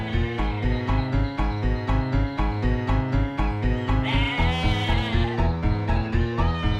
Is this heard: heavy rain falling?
no